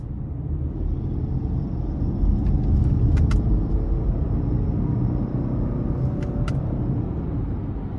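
A 2023 Subaru Outback Limited 2.5 engine under power while driving, a low, steady road and engine rumble heard from inside the car that swells slightly midway, with a few faint clicks.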